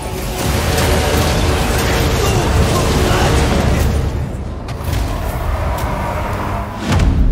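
Tzeentch's Firestorm spell raining down on a group of Corsairs in Total War: Warhammer III, loud rumbling blasts and thuds under battle din, with a brief spoken word.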